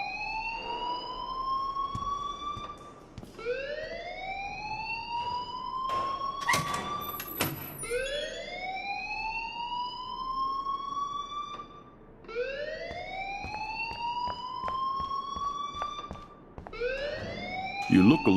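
A rising, wailing electronic alarm repeats in long sweeping cycles in the video game Life is Strange, loud and steady, with brief clicks and other game sounds mixed in between the sweeps.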